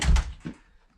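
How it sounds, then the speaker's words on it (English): A door shut at the edge of a garden water feature, one loud close thump followed by a softer knock that fades quickly, near and alone. "Let me shut this door."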